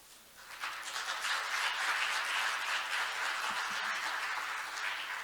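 Steady applause from an audience at an international patent court conference, a dense patter of many hands clapping at moderate volume, fairly distant and without voices.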